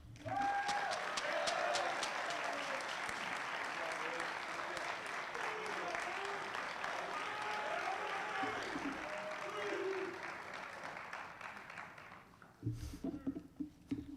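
A chapel audience at Wabash College claps in welcome for student speakers, dense, steady applause that fades after about ten seconds, followed by a few scattered claps and a voice.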